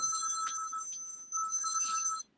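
Phone ringtone playing alone, two bright electronic bursts of repeated ringing separated by a brief pause, close and clear before cutting off abruptly.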